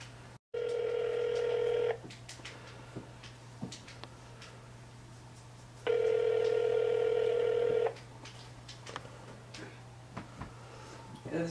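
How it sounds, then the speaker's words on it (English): Video-game phone call being placed: two long, steady ringback tones about two seconds each, separated by a few seconds of quiet, over a constant low hum with small clicks. "I'm going to call him."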